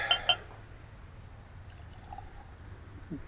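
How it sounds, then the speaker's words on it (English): Old Forester 1910 Kentucky Straight Bourbon Whiskey, 93 proof, poured into a Glencairn glass: a short glassy clink and liquid splash at the start, then a quiet trickle fading into low room hum. "this is the 1910 Kentucky Straight Bourbon Whiskey. Let's go ahead and get it poured."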